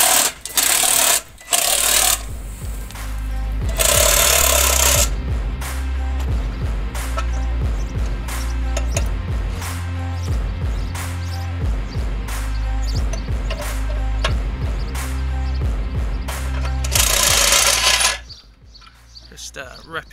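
A Parkside cordless impact tool works loose nuts and bolts on a Mercedes-Benz steering rack, a dense, continuous run of rattling hammer impacts close up for about fifteen seconds, with a few louder bursts at the start and end and no talk.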